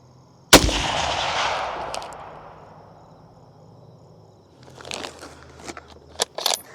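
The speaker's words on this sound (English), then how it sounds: "All right, 3 shots." A single loud, close rifle shot fired while sighting in a new rifle for deer season, with a sharp crack and a long decaying echo; faint handling clicks and rustles follow.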